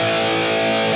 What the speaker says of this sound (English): Here's our scene 1 sound